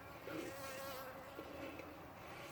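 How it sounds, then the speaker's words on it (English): Winter honey bees buzz faintly around a hive, a thin steady drone with a few louder passes as individual bees fly near. "these are winter bees. They're supposed to be really mean."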